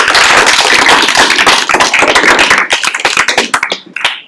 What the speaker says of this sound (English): let's have a huge round of applause for Brandon